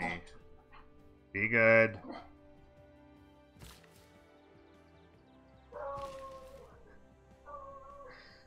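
Dog barking and whimpering indoors, one loud sharp yelp-like bark followed by fainter whines and tonal whimpers later, under and between a person's quiet speech.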